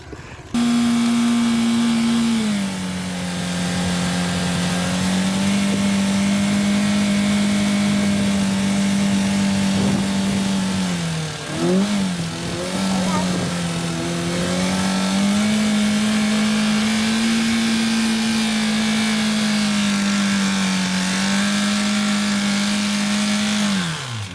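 Renault Clio engine revving hard and held near a constant high pitch for a long stretch, dipping and wavering briefly midway before recovering, then dropping away sharply at the very end as it dies; loud and close, with no talk.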